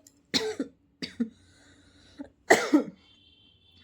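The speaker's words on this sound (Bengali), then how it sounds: "ব্লগ বানার জন্য কাশি চলে আসছে আমার।" Three separate coughs, each a short burst or double burst, come close and loud with quiet pauses between them.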